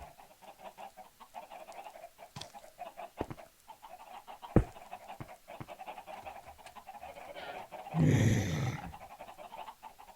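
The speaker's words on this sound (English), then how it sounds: "But it still will mostly be chickens, you hear." Chickens cluck faintly in the video game Minecraft, with sparse, quiet clucks over a soft ambient background and one louder burst of clucking near the end.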